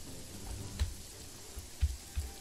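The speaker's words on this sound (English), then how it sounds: "Heavy rain and night." Heavy nighttime rain in the video game Jagged Alliance 3 makes a faint, steady broadband hiss, broken by a few soft low thumps.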